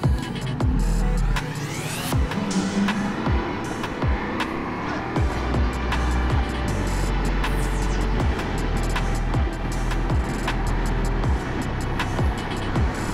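A Ducati Multistrada V4S motorcycle on a quick ride, its engine droning steadily and rising through gears with quick-shift changes, wind rushing throughout with no talk.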